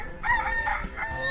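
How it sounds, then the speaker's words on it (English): A rooster crows in a single drawn-out call with a rising then falling contour, close and loud, set against a farm animal scene with no talking. "Is it a rooster?"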